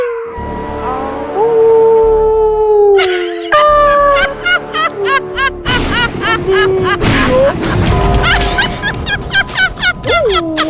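A dog howls as a comedy sound effect, with long wavering cries at the start, then a run of sharp yips and thuds mixed with other effects.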